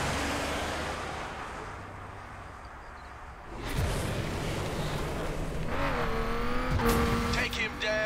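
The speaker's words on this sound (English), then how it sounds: "I left you a raid spec off-road vehicle for this job." A raid-spec off-road vehicle in The Crew, heard from close range, with its engine revving and accelerating in rising tonal sweeps after a quieter, rumbling opening, and brief screeches near the end.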